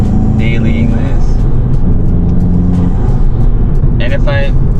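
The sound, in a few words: Volkswagen GTI with Integrated Engineering intake and Stage 1 tune driving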